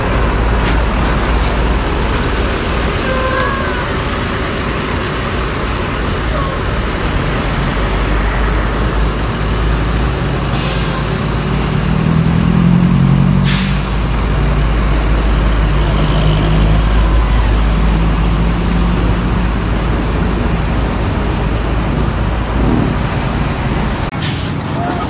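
A long-distance bus, an MPM Sutan Kelas coach coming from Solok, Padang and Bukit Tinggi, idles and rolls into a depot with a low, steady engine rumble, two sharp air-brake hisses, and traffic noise around it.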